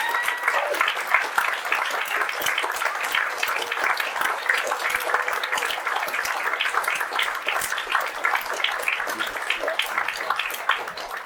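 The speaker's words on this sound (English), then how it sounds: "I'd like you all to give him a round of applause." A theatre audience at a festival performance gives a sustained round of applause, many hands clapping in a dense, even patter for about eleven seconds, with faint crowd murmur underneath.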